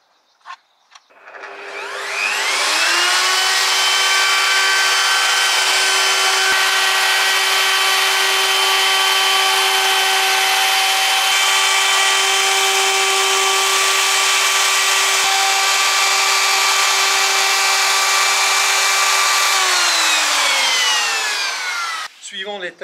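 A wood router cuts a decorative groove into a door, spinning up, then whining loudly and steadily for nearly twenty seconds before winding down.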